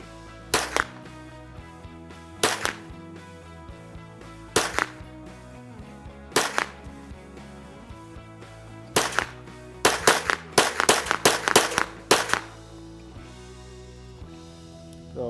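Thirteen sharp rifle shots crack over a ZeroC2 chronograph outdoors. They come singly at first, a couple of seconds apart, then in a fast cluster near the end, loud and close with nobody talking.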